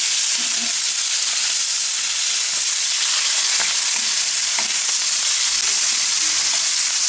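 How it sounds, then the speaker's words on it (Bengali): Hilsa fish fries in a pan with a loud, dense, continuous sizzle and hiss, close to the ear, with faint clinks of stirring scattered through it and no voices. "সব শেষে রান্না করা হচ্ছে ইলিশের ভাজি"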